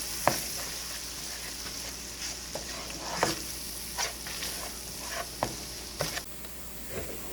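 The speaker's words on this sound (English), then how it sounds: "we are now going to add the flour and thicken this up and make our roux." Flour roux sizzles steadily in a pan for noodles Romanoff while a utensil stirs and taps the pan at intervals, close and continuous.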